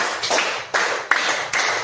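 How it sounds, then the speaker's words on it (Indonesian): A group of teachers in a coaching session claps in unison to a count, giving four sharp, loud bursts spaced roughly every third of a second, close and dense. "Tepuk 1, tepuk 2, tepuk 3, tepuk 4"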